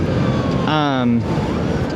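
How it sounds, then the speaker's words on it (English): An ambulance siren sweeps past nearby, a brief rising and falling wail heard over steady traffic noise while a person keeps talking. "Oh look, we got an ambulance coming."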